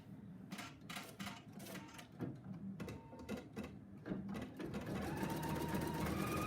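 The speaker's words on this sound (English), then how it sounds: "now it's going to start and sew the buttonholes" A Pfaff Icon embroidery sewing machine stitches buttonholes in a hoop, running with a steady, rapid mechanical chatter of needle strokes that grows slightly louder and denser toward the end.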